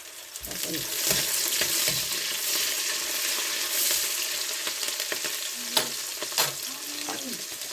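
Cumin, cloves and cinnamon fry in hot oil for a boti curry, making a continuous close crackling sizzle broken by several sharp stirring scrapes and taps.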